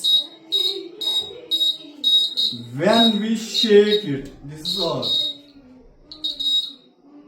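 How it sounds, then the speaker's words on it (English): An electronic earthquake alarm beeps in repeated short, high-pitched pulses while a person talks over it nearby, the beeping continuing in bursts. "It beeps. It makes a sound, alarming sound."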